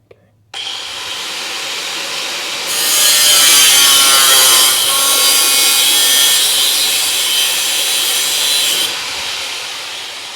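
A tool cuts through a section of a Dodge Charger crew cab body during restoration. It gives a loud, sustained grinding whine with a rasping edge that grows harsher midway, then drops back before stopping.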